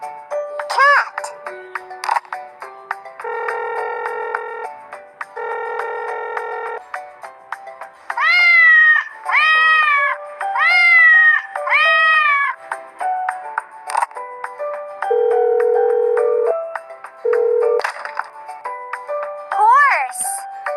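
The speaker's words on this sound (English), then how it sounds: "Cat!" A cartoon cat meows in a string of short, bright, rising calls, set among chiming jingle tones in a children's animal-names song, alone without talk.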